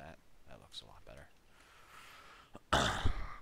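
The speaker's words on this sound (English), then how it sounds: "I'm sorry for the coughing or the little sniffles there" A sick person recovering from illness, probably over a chess game, clears the throat and coughs once, a short loud burst at the end that follows quieter speech and breathy sniffling noises.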